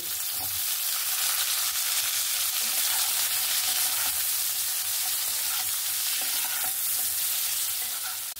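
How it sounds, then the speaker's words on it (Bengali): Eggplant pieces fry lightly in a kadai of hot oil, giving a steady, dense sizzle that stays constant and fairly loud throughout with no talking. "বেগুনগুলো বেশি ভাজার দরকার নেই, হালকা একটু ভেজে আমি তুলে নেব।"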